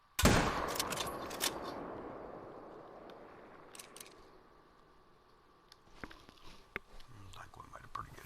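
A 7mm bolt-action hunting rifle fired once at a doe outdoors, a single sharp loud report at the start that rolls away in a long echo, followed by quiet low whispering.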